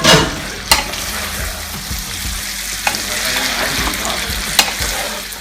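Ackee sizzling and frying in a pan with bacon, tomato and onion, a continuous close hiss with occasional sharp pops and spoon knocks as it is stirred.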